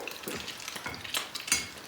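Çörek bread frying in a pan gives a close, steady sizzle and crackle, with light stirring scrapes throughout.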